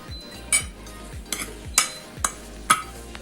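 Chinese vermicelli stuffing with spices, bay leaf and fish being stirred in a pan, several sharp utensil scrapes and clinks over a steady low sizzle, close by with no talk.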